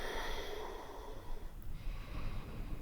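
Deep, slow breathing during a prenatal yoga flow, a close, soft airy inhale and exhale with a snort-like nasal rush, heard alone without talk.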